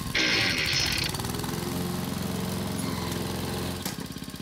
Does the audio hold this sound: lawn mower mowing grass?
yes